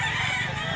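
A white Kelso rooster about a year old, offered for sale at a rooster market in Mantalungon, Barili, Cebu, crows in a single loud, close, sustained call with no talking.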